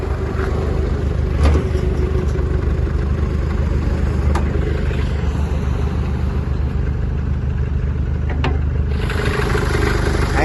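The 2.5-litre engine of a 2013 Chevrolet Colorado pickup truck idles steadily and loudly up close, a low continuous rumble with no voices over it.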